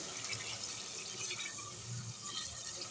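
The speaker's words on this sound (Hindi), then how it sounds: "अब देखें, इसमें मैंने पानी ऐड कर दिया है।" Water pours steadily into a pot of rice with oil, a continuous close splashing and trickling stream with no talking.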